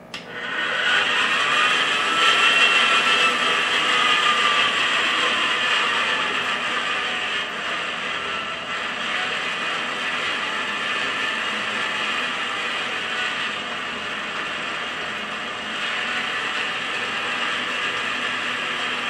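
An electric stand mixer runs on low while eggs are beaten into cake batter, a steady whirring mechanical hum with a rattling edge that continues close and alone throughout.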